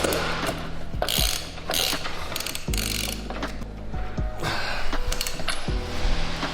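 Close ratchet wrench clicking away as the axle nut is tightened on the wheel of a FunBikes Viper 125 pit bike during assembly, with repeated pawl clicks and brief mechanical clunks at an uneven pace.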